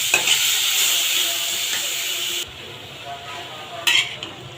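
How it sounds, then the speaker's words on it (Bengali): Onion with garlic paste fries in mustard oil in a pan, giving a steady close sizzle with stirring scrapes, a sudden drop in intensity midway, then a brief louder stir near the end; no talking. "এখন আমি ভেজে নিব পেঁয়াজটা"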